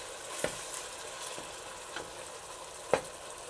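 Tomatoes being smashed in a pot of simmering black bean soup, a soft continuous sizzle broken by a few sharp scattered taps and squelches, fairly faint and close, with no talking.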